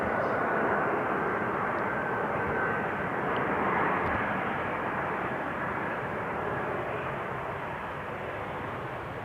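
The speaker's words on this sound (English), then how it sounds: "That's a 9-year-old Embraer 190 coming in from Geneva and ready to touch down." A nine-year-old KLM Embraer 190 from Geneva comes in to land on Schiphol's runway 18R in calm air, a broad continuous jet roar that is loud at first and eases off slightly toward the end, with no talking.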